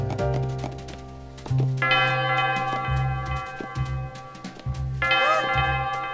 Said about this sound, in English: That bell, it's going to start soon.